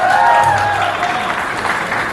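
Loud applause fills a Pathaan success press meet, with a dense crowd clapping steadily throughout at close range and no clear speech on top.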